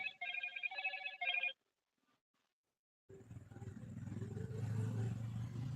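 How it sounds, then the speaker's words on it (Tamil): A telephone rings during a live stream in a repeated electronic burst, then stops. After a pause, loud rumbling noise with a faint voice follows. "நம்ம லைவ் போடும்போது தான் ஃபோன் வரும் என்ன பண்ணுறது இப்போ"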